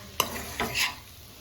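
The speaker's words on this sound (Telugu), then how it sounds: "కలుపుకుంటూ సిమ్లో పెట్టి కలుపుకుంటూ వేయించుకోవాలి" Goat offal (boti) stirred and frying in a pan on low heat: a sharp scrape of the spatula, then two softer stirring strokes over a steady, quiet sizzle, with no voices.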